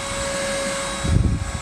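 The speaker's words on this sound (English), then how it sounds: "Probably can't hear over my vacuum." A homemade bee vacuum runs with a steady, loud whine and hum throughout while honeybees are rescued from a tree, the motor roughening and surging with low rumbling bursts in the final half second.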